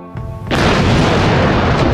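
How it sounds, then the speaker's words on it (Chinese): A car packed with 200 cans of explosives detonates in one loud, close blast that erupts suddenly and keeps roaring and rumbling without letup. "他们将200罐炸药装进新买的汽车里，紧接着在安全屋按下了引爆按钮。"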